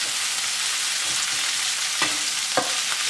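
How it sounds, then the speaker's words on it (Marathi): Sliced onion and capsicum frying in a pan make a loud, steady sizzle throughout, with a few soft stirring scrapes near the end and no voices. "आता आपण हे फ्राय करून घेणार आहोत"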